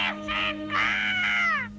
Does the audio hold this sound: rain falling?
no